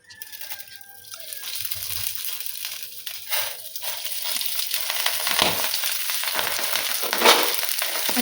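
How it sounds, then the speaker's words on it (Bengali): Rice grains frying in two spoons of ghee in a frying pan give a steady, close sizzle with crackling and scraping from stirring that grows louder and denser over several seconds. "আমি পুরো চালগুলোকে একটু ঘিয়ের মধ্যে ভেজে নেবো, যতক্ষণ না একটু একটু থেকে চড়চড় করে আওয়াজ হবে"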